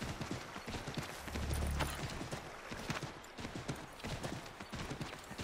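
Horse hooves clip-clop in Assassin's Creed 3, a fast, continuous rhythmic patter of steps over a dense noisy game soundscape, with no talking.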